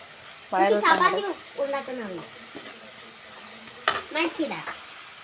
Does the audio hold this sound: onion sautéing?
yes